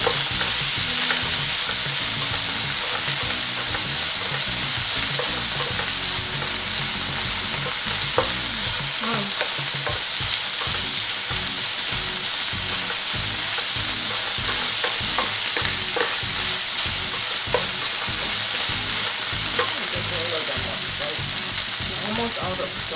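Bamboo shoots sauté in a hot pan with a loud, continuous sizzle and frying crackle, stirred now and then with scraping and clinking, heard up close and alone for the whole stretch.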